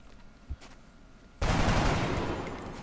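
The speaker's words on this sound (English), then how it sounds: "I'm going to take the shot." Gunfire in the video game XCOM: Enemy Unknown erupts suddenly after near-silence as a loud, dense burst that holds steady for over a second without any speech.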